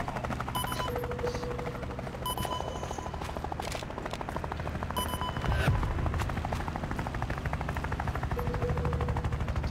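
Video game gunfire in the shooter Lost Light: rapid machine-gun bursts with repeated shots and a heavier blast midway, loud and continuous, mixed with game alert tones and mechanical noise.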